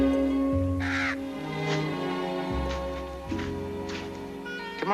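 A crow caws several times in a Western frontier setting near Virginia City, the harsh calls standing out over a steady background of low sustained music.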